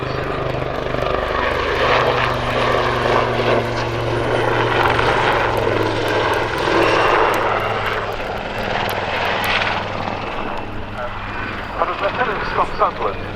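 A Royal Navy Wildcat HMA2 helicopter roars through its final pass at an air show, its rotor and engine noise loud and sustained before easing away, while a commentator talks over the PA.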